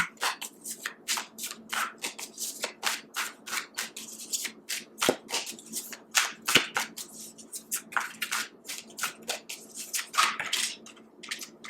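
Tarot cards are shuffled by hand in quick repeated riffling bursts, crisp close papery rustles and slaps coming in a steady irregular rhythm with no talking.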